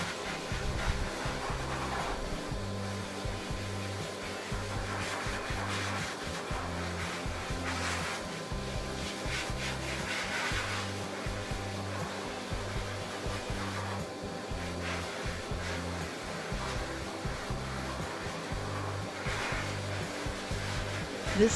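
A K9 Fluffer dog dryer from the Electric Cleaner Company blows on a standard poodle, a constant loud rushing airflow over a steady low motor hum that runs unbroken with no talking.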